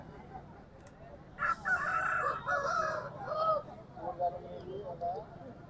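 A rooster crows at a Saturday country-chicken market in G. Mamidada, a mid-distance call rising over steady crowd noise, with people talking nearby.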